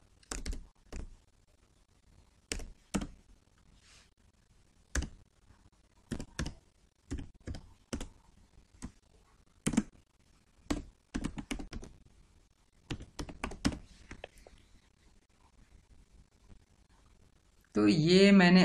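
A computer keyboard clatters as someone types an email ID. Short bursts of close keystrokes arrive in an irregular rhythm with pauses between them, and a louder burst of sound comes at the very end.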